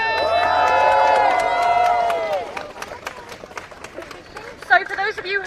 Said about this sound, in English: can I just have one final cheer for our fantastic speakers